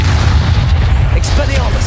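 Rapid spell blasts from Hogwarts Legacy combat, Stupefy and Depulso, land as deep, punchy booms in quick succession, loud and close, with a voice shouting over them.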